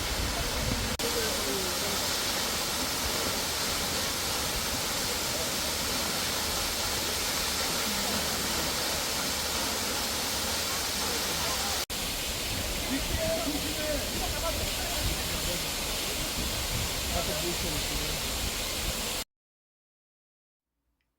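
Jeongbang Waterfall on Jeju pours steadily beside the sea, a loud continuous broadband rush of falling water and surf with no talk, ending abruptly in silence near the close.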